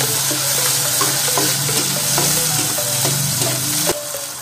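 Onion and tomato frying in a hot pan, a steady loud sizzle with a spatula scraping and stirring at close range, tapering off near the end.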